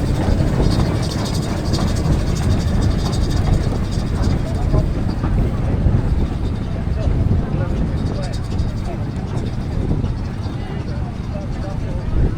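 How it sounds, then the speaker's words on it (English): A Wallace flywheel-less steamroller rolling past in a parade of steam engines at Parham Park, a dense, loud mechanical rumble and clatter lasting throughout, with a voice talking over it. "So Wallace came up with a flywheel-less steamroller like this"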